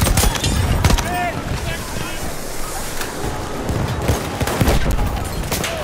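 Rapid machine gun bursts crackle amid a chaotic Battlefield 1 multiplayer firefight, loud and dense with explosions and shouting voices layered over the gunfire.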